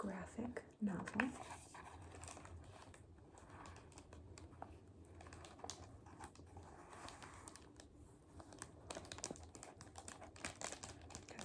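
Crinkly plastic library cover on a rescued graphic novel being handled, giving soft irregular crackles and rustles close up, with a quiet murmured voice near the start.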